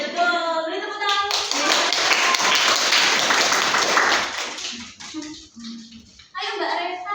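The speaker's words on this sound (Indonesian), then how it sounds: "Beri tepuk tangan." A classroom of students bursts into applause, loud clapping that runs for several seconds and then fades, with speech before and after it.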